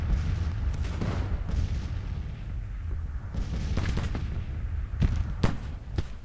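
Artillery fire in the Civil War strategy game Grand Tactician: The Civil War, with repeated booms and distant volleys rolling over a constant low battle rumble.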